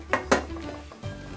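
A metal idli cooker clanks twice sharply on a gas stove, followed by softer scraping and a final clunk of metal cookware, close and fairly quiet.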